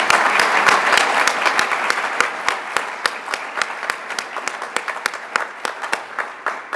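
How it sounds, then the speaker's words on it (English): A room claps for award winners at the close of a department awards ceremony, a dense, steady round of applause that slowly thins into scattered individual claps. "One more round of applause for all of our award winners here."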